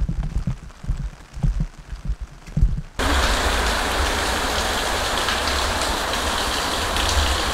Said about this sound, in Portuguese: Ó, chuvinha, não parou.